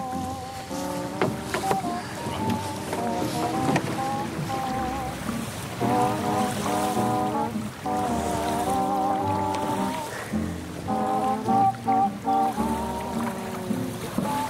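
A rowing boat moves along a river on an incoming tide, with rhythmic knocking and splashing strokes of the oars under a dense layer of tonal, music-like sound throughout.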